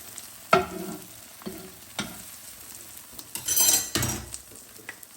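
Korean rolled egg omelette cooking in a pan, a quiet sizzle broken by several distinct scrapes and taps of a utensil folding and pulling the egg, with a louder clattering burst near the end.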